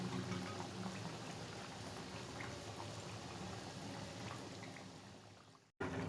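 Sweet koonday wali tikiya frying in oil until golden brown, a steady soft sizzle and bubbling that stays even and close before cutting out briefly near the end, with no talking.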